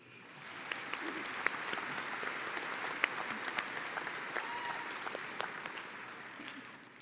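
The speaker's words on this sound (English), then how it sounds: "How about another round of applause for Mia?" A high school graduation audience claps for a commencement speaker, a sustained round of dense applause from a large crowd that swells and then gradually thins.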